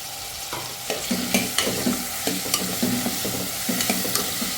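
Tomato and potato pieces fry in a pan for a mixed vegetable curry. A continuous sizzle runs under regular, fairly close scraping strokes of a spoon, and no one speaks.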